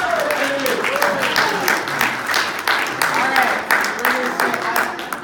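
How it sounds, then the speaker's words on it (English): Enthusiastic applause follows a talk on the story of Hanukkah, with steady clapping alongside cheers and whoops that rise and fall in pitch. A lively room sound that keeps going to the end. "I even got applause from Justin"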